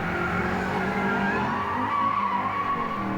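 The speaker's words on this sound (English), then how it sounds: "Now that was a fine four-wheel drift at the corner." A rally car, one of the entrants in the Targa Newfoundland road rally, holds a four-wheel drift through a corner, its tires skidding and squealing steadily over the engine roar, loud and close for the whole stretch.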